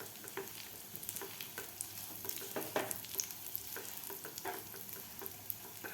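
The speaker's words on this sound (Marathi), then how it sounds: "असं दाबून याला व्यवस्थित तुपामध्ये व्यवस्थित फ्राय करायचं आहे" A date and cocoa powder mixture fries in ghee in a pan, a soft, close sizzle with frequent scraping and pressing strokes of a spoon throughout.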